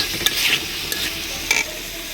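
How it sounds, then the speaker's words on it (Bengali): Potato pieces going into a pan of hot oil with spices, a steady close sizzle broken by a few sharp scrapes and clinks of stirring. "এই দিয়ে দিচ্ছি আলুগুলো আগে তারপরে দেবো বুটগুলো"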